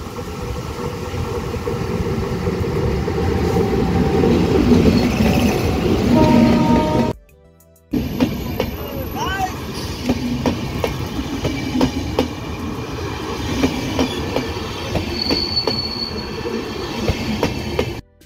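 A train rumbles past close by on a ghat section near Karjat, wheels clattering and squealing on the rails, with a short gap of silence midway before the rolling noise resumes.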